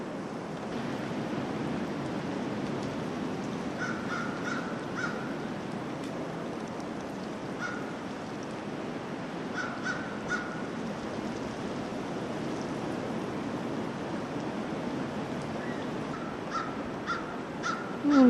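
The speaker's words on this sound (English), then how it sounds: "There's lots of crows out there today, eating the leftover corn" Crows caw outdoors near woods and harvested cornfields in winter, giving faint, scattered bursts of calls at a distance over steady rushing background noise. No one speaks.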